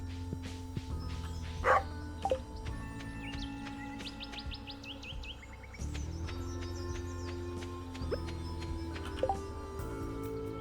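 Small dog in the video game Stardew Valley gives a few short bow-wow barks and a yip amid chirping game birds and farm ambience, with no talk.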